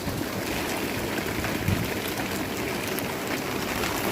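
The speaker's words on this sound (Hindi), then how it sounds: "बारिश कितनी तेज़ हो गई है" Heavy monsoon rain pours down in a dense, steady hiss with a broad rushing wash, continuous and fairly loud, with no breaks and no talking.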